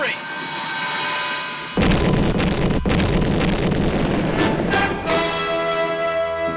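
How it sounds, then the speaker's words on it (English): An explosion in the Star Trek animated series episode Beyond the Farthest Star bursts in loudly partway through, followed by a sustained rumbling roar with scattered crackles and a low hum beneath. "Located them right after that explosion, Mr. Sulu."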